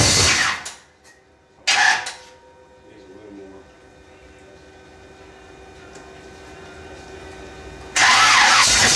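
Engine of a Camaro in a garage cranks and catches for its first startup in a very long time, with bursts near the start and a loud run at the end; people talk in between.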